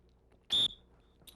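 A single short, shrill dog-training whistle blast, loud and close, in an otherwise quiet room, used to call a gun dog puppy.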